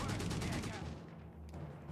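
A 6-pounder anti-tank gun firing in the strategy game Company of Heroes 3, a burst of rapid heavy shots and battle noise that fades into quieter rumbling.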